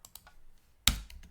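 Short burst of typing on a computer keyboard during a coding lesson: a few faint soft clicks, then one louder sharp keystroke cluster, close to the microphone with no talking.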